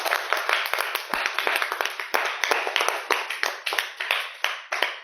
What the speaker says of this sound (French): Applaudissons pour elle.